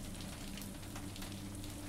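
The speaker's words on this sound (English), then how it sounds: "you both watch the rain streak down the windows" Rain streaking down train windows during a night journey, a soft, continuous patter that stays faint and even throughout.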